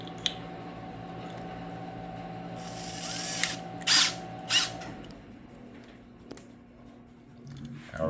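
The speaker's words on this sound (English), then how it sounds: "And I'll wind this in the drill." A drill winds 24 gauge wire onto a coil for a 4-inch single-phase alternator, giving a steady, quiet motor hum for several seconds before it stops, with a few brief clicks and handling noises.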